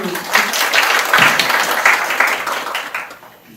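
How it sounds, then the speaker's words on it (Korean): Audience applause at an art criticism festival event for a gallery's artist and performer, a steady broadband clapping wash lasting a few seconds before tapering off at the end. "네, 박수."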